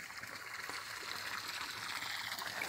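Floodwater pouring across a rural road in the Pernambuco Agreste, a steady, loud rushing and gurgling wash of water that continues without break through the whole stretch.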